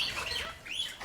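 A pet parrot gives a quick run of close, shrill chirps and squawks, several calls packed into about a second.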